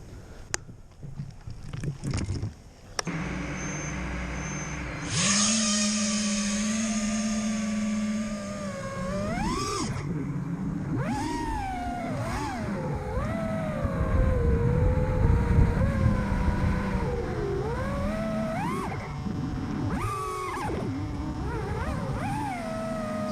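A RushFPV Blade F277 FPV drone on a Sport 50A ESC rips around a park, its motors whining in sweeping, rising and falling pitch bends with loud, close bursts of throttle over a steady buzzing drone.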